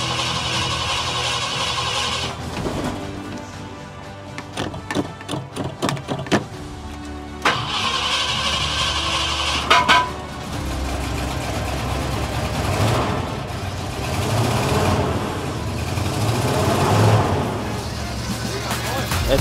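A Ford F250 Supercab pickup with a faulty neutral safety switch cranks in several short bursts, then catches and runs steadily with a rough idle close to the microphone.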